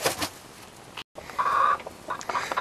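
Backyard flock of laying hens, including Australorp, Buff Orpington and Leghorn chickens, giving a few short close clucks and squawks in brief bursts with a tiny gap between.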